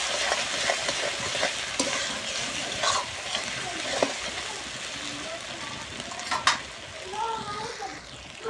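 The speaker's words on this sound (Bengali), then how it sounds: "এইবারে মিলে নেব।" Spices are stirred into fish curry in a frying pan, producing a steady sizzle with scraping strokes and soft splatters, and voices murmur faintly in the background.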